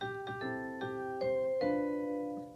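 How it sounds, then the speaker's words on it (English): Google Nest Doorbell 3rd Gen chime ringing indoors, a melodic sequence of about six clear bell tones struck in quick succession, each ringing on and overlapping before fading out. "And they ring the doorbell again."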